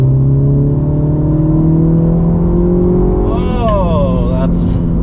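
A 2023 Mini Cooper S with bolt-on power upgrades pulls hard at full throttle, its engine note rising steadily and loudly throughout, with a voice briefly heard over it near the end.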